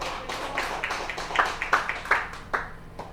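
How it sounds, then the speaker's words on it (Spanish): A church congregation claps in a loose, uneven rhythm of sharp hand strikes. The claps are moderately close and fairly sparse rather than a dense ovation, with no talking over them. "Dele fuerte ese aplauso, hermano, que se oiga."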